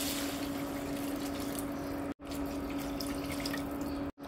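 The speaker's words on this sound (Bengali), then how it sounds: "কষিয়ে নিলাম, দিয়ে দেবো এখন জল।" Water pouring steadily into a pan of pineapple chutney, a continuous close splashing stream with two brief breaks, no talk.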